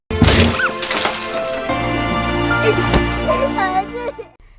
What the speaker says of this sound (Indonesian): Dosuk memecahkan kaca pintu dan membawa Songyi.